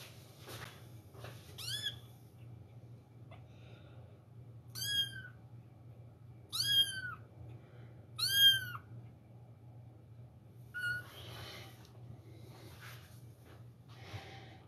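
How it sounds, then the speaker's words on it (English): Bottle-fed kittens meowing: several separate high, rising-and-falling mews spaced a few seconds apart, close and clear over a low steady hum, with soft snuffles between. "Right now I have a couple bottle-fed kittens that I have to feed right now."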